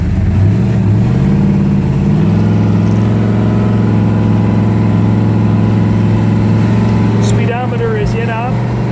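A 1969 Dodge Coronet Super Bee with numbers-matching engine and a loose stall converter pulls away, its V8 rumbling loud and close with a steady rising drone as it accelerates, a brief voice breaking in near the end.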